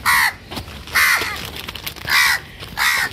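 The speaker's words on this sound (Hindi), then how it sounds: "एक कौवा आ गया है" A crow caws loudly four times in two pairs of harsh calls, close by, with quiet outdoor background between them after rain.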